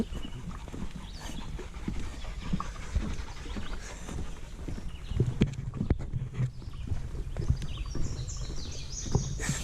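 Four dogs pant rapidly and continuously close by on a hiking trail, with scattered footsteps and light scratching on the ground, plus faint outdoor background noise.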